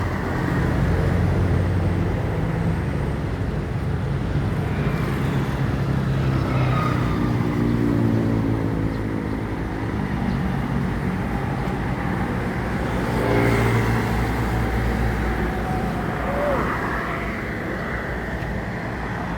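A Jet Bus 3 coach rolls past on a Sumatra road, its steady engine roar and tyre noise holding strong throughout amid other passing traffic, with no voices.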